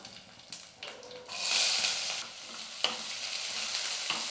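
Finely chopped onion goes into a hot pan and fries with a faint sizzle that swells into a louder hiss, punctuated by occasional scrapes and taps of a stirring spoon, with no talk.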